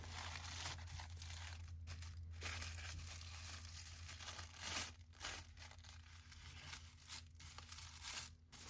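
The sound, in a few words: paper being fan folded for junk journal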